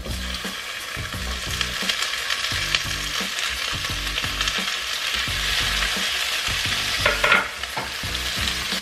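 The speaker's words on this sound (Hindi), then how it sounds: "सारे चीज़ों को अच्छे से एकदम फ्राई कर देंगे" Onion and tomato frying in a pan with cashew nuts, ginger-garlic paste added, a steady close sizzle with repeated stirring scrapes throughout, no talking.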